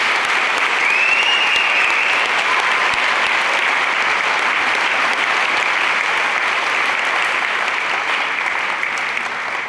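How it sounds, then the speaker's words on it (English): Steady, sustained applause from a large audience at a graduation completion ceremony for a technology and career center, filling the full length evenly at high loudness with no talk over it. "one more round of applause for them"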